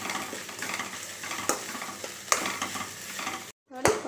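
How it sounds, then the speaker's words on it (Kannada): Okra fries in a pan with salt, turmeric and chili powder, a dense close sizzle broken by sharp stirring scrapes and clinks, then a brief pause before one last scrape, with no voices. "ಒಂದು ಅರ್ಧ ಸ್ಪೂನು ಖಾರದ ಪುಡಿ ಹಾಕ್ಕೊಂಡು ಚೆನ್ನಾಗಿ ಫ್ರೈ ಮಾಡೋಣ"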